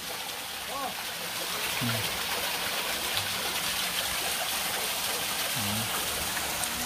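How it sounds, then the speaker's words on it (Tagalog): Water flows steadily in a stream at a resort in Quezon Province, a continuous rushing wash heard up close, with brief voices speaking over it. "Punta rito ang tubig."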